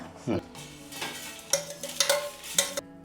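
Metal spoon scraping and clinking against a pan as roasted spices for gongura chutney are tipped into a pot, several sharp taps close by.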